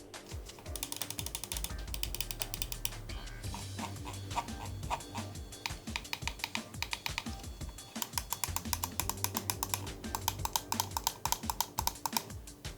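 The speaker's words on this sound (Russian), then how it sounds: "Ну и клики получились примерно такими." Rapid clicking of an ATK Zero computer mouse fills the whole stretch, dense bursts of sharp close-up clicks with short pauses between runs, loud and with no voices.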